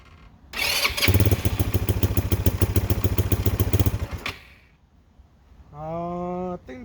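A Chinese ATV engine cranks and catches, then runs in a loud, rapid, uneven chugging for about three seconds before cutting out; after a pause a steady whine rises, with faint talk nearby.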